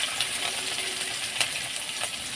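Green chillies, onion and whole cumin sizzle in mustard oil in a wok, a steady close frying hiss with a few light clicks and spatters.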